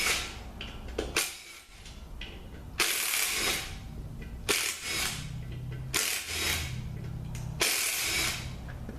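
Power tool zips bolts out during an NAG1 transmission teardown, giving several short ratcheting whirs in bursts separated by brief pauses, close and moderately loud, with metallic clinks in between.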